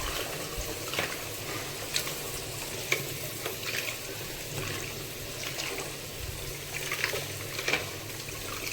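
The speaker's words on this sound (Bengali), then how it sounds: "এরপর কেটে রাখা পুঁই শাক আর পুঁই ডাঁটাগুলোকে ভালো করে ধুয়ে নিয়ে তারপর কড়াইয়ে দেব।" Washed Malabar spinach leaves and stems land in a hot wok, giving a steady close sizzle and frying hiss with faint watery crackles and occasional soft clinks, no voices.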